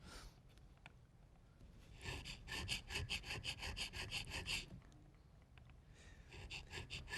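A checkering tool rasps new lines into a wooden gun stock with quick back-and-forth scratchy strokes, a dense rhythmic burst midway and a shorter one near the end, close and fairly soft.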